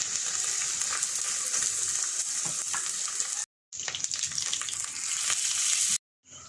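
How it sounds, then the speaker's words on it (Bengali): Ground spice pastes of coconut, cumin, coriander and dried red chilli, with garam masala, ginger and cumin seed, fry in oil in a pan, giving a steady close sizzle with two brief silent breaks. "নারকেল বাটা, জিরে বাটা, ধনে বাটা, শুকনো লঙ্কা বাটা, গরম মশলা, আদা, জিরে, একে একে মশলাগুলো দিয়ে দিই।"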